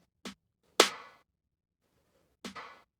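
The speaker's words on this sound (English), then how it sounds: "snare stack, which sounds like this actually" Layered snare stack drum sample from a pop production: three sharp, dry hits, the second and third louder with short noisy tails, each separated by silence.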